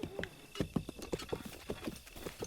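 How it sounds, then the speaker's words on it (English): Wild horses in Zelda: Breath of the Wild gallop with a rapid, steady clip-clop of hooves, fairly close and continuous throughout. "Oh, look at the wild horses over there."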